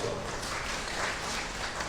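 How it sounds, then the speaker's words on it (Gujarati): An audience claps and applauds at a social harmony seminar in Bhavnagar, a steady, dense wash of clapping that holds evenly for about two seconds with no pauses. "એમના માટે ક્લેપિંગ અને તાળી આવતા"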